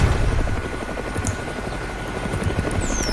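Helicopter flying in the Roblox game Mad City, a steady loud rotor drone with a continuous whirring hum that holds for the whole moment with no talk over it.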